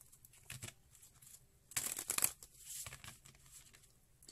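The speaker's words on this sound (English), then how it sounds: "3 more shuffles, they say." Papery riffling of cards being shuffled in a few quick bursts, close and quiet, with soft pauses between them.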